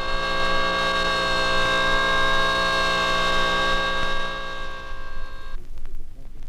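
A Vickers hydraulic pump runs at 3600 RPM and 750 PSI, giving a loud, steady, high-pitched tonal whine that holds for several seconds and then suddenly cuts off into a lower, rougher rumble.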